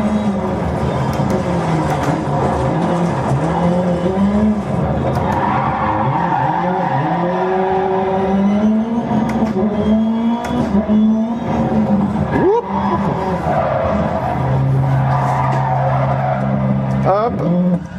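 A racing video game car revs loudly with a shifting engine pitch while its tires skid and squeal in repeated sweeps, a continuous near mechanical roar from a car spinning around 900 turns on the track.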